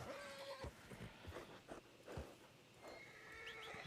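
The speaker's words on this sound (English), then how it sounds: "Daggone horse." A horse in the Red Dead game (RedM) whinnies while its hooves clop, with a short high neigh near the start and scattered hoof thuds, faint and fairly close.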